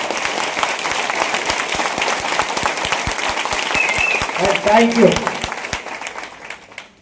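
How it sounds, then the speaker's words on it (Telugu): A seminar audience claps together at a leadership talk, a dense, steady patter of many hands filling the room before tapering off, with a brief spoken thanks near the end. "ఒకసారి గట్టిగా క్లాప్ చేయండి సార్"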